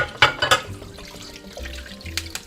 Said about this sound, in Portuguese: Já jogo uma água gelada para facilitar na hora de descascar o ovo.